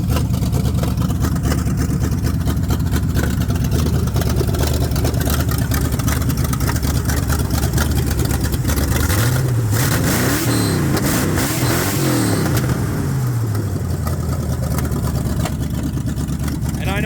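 A Pontiac 350 V8 in a 1982 Chevy C30 truck runs steadily and loudly throughout, with a rising and falling rev in the middle and no talking.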